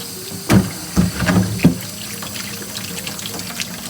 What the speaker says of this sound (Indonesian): kita cuci singkong ke dalam air mengalir